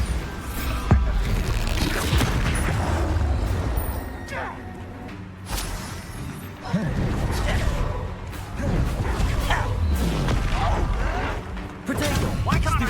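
Explosive Confringo and Bombarda spells cast in a Harry Potter video game: a run of booming blasts and crashes with clattering debris, loud and close, repeating every few seconds over game noise.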